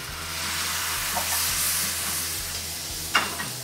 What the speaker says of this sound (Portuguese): A gente deglaceia ele um pouquinho aqui com água mesmo.